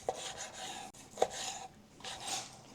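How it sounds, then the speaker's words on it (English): A knife slicing through a thick grilled steak on a cutting board, giving soft rubbing, sawing strokes with a few sharper taps of the blade hitting the board, close and fairly quiet. "Let's slice into this thick one."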